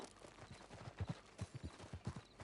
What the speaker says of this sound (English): if you antagonise him, the horse just boots him right in the face, man